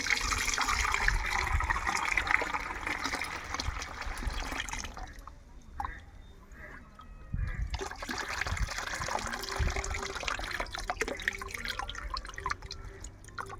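Homemade humic acid liquid, made from decomposed rice, is strained in a steady splashing trickle and drip of liquid that thins briefly midway and then resumes, with no talking.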